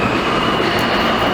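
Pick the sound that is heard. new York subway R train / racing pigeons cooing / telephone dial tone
new York subway R train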